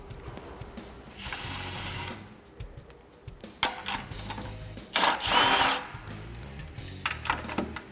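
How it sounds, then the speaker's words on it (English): Three spare tire lug nuts on a Jeep Wrangler JK being removed with a 3/4 inch socket on a power tool, giving short whirring bursts with clanks and handling noise between them. "you remove the 3 lug nuts using a 3/4" socket"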